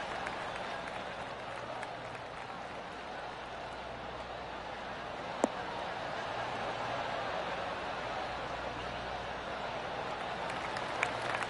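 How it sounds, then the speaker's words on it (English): Soft, polite golf applause from a distant crowd in the video game PGA 2K23, steady and subdued, with a faint background murmur. "Oh, golf clap."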